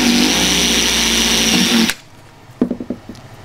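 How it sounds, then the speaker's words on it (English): A power drill whines loudly and steadily as it bores a hole through a plastic pipe, then cuts off abruptly, followed by a few short knocks and rattles. "I need to drill some holes in here. So the first thing to do, drill a hole in there."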